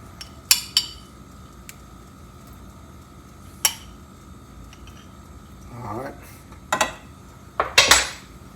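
Spoon scraping and clinking against a pot while shrimp rice with pimentos is stirred, a few sharp metallic clinks and a brief low scraping swirl, with talk around it.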